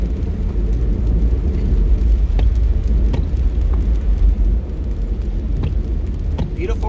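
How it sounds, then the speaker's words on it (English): Steady rain on a rainy day in Angeles City, a broad continuous hiss with a low traffic rumble underneath and scattered sharp ticks, loud and close. "Beautiful rainy day."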